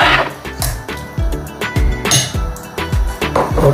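A spoon knocks and scrapes against a pot of carrot halwa in milk, a steady run of clinking metal taps close up and fairly loud, with no voices.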